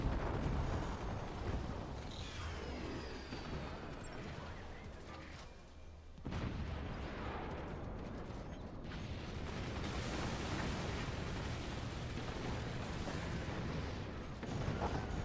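Heavy incendiary nuke blasts and weapon fire in the real-time strategy game Forts, a dense continuous roar of explosions and rumbling mechanisms with a brief dip midway before the barrage resumes.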